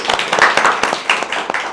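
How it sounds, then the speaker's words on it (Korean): An indoor audience claps to welcome a speaker at a panel on AI and media, a short burst of dense, steady applause heard close and fairly loud. "박수로 맞아주십시오."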